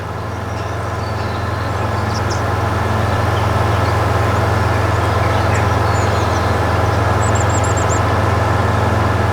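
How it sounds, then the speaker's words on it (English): A tractor engine idles and runs steadily in a dairy farming video game set on a spring day, a loud constant low drone that swells slightly at the start and holds, with faint bird chirps above. "My favorite tractor for right now, I guess. Let's put it to work."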